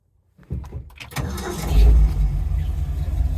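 A Ford Early Bronco engine cranks and catches after a short silence, then settles into a loud, close rumbling idle with a brief rise in revs.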